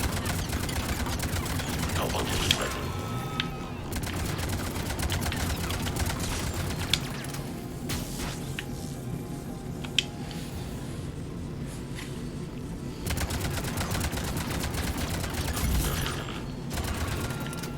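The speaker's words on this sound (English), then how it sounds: "Stop shooting me." Sustained video game gunfire rattles in dense automatic volleys, with sharp single shots popping through, over steady low background noise and a few faint voices.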